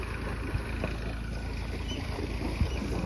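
A village tractor hauling a load of fodder gives a steady, low, rumbling engine drone that stays even throughout, with a couple of brief knocks and no talking.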